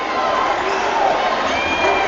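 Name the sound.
crowd cheering at basketball game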